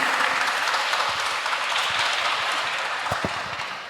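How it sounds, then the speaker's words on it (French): A congregation applauds during a French-language Bible quiz. The clapping is a steady, dense roar of many hands that holds evenly for several seconds, with no voices over it. "On applaudit s'il vous plaît."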